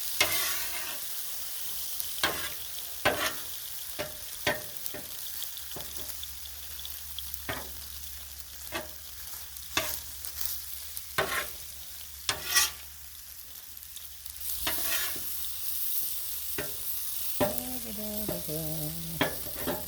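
A beef stir fry sizzles steadily on a Blackstone griddle while a utensil stirs and scrapes it, with frequent sharp metallic clacks and scrapes over the constant hiss.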